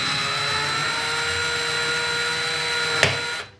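An electric screwdriver runs in reverse at its lowest torque setting, giving a steady, close motor whine with an even tone that holds for about three seconds, then a small click before it winds down and stops.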